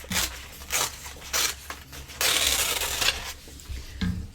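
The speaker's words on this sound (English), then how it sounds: "So I'm just going to tear that now." Paper is torn by hand in a card-making session, a series of short close ripping bursts with one longer tear in the middle.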